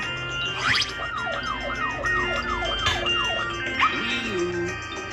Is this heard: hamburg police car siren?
yes